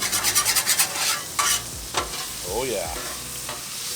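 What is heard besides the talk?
food sautéing on Blackstone griddle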